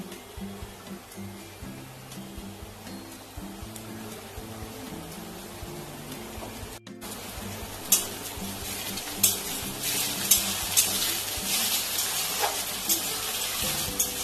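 Crushed ginger and garlic go into a frying pan of lightly fried eggs for tadka, bringing a steady close sizzle with stirring and a few sharp clinks of utensil on pan.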